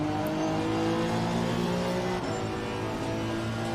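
A race car engine accelerates hard in Assetto Corsa Competizione at Laguna Seca Raceway, a loud, steady, close engine drone that holds for the whole stretch without a break.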